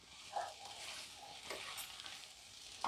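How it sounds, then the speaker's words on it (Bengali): Potatoes with spices and a pinch of sugar are mashed and fried in a pan, giving a steady sizzle broken by stirring scrapes and a few sharper knocks of the spoon. "এবার এগুলোকে ম্যাশ করে করে ভাজা ভাজা করব কিছুক্ষণ"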